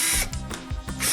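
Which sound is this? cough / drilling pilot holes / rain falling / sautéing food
drilling pilot holes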